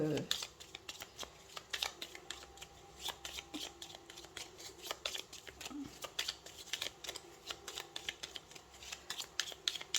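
Tarot cards are shuffled and drawn by hand in a crisp stream of papery flicks and snaps, close and fairly quiet, with soft clicks scattered across the stretch and a voice speaking faintly in the background.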